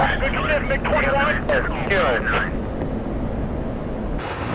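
An F-16 in a flight simulator game rumbles with a steady jet engine roar as it takes off, heard under radio-style voices talking.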